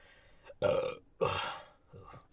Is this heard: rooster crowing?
no